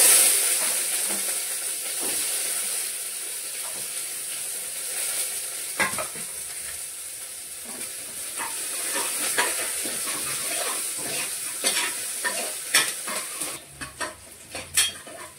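Chopped onion frying in ghee with bay leaves, a cinnamon stick and two cloves, giving a steady close sizzle with scattered stirring scrapes and clicks of a spoon against the pan.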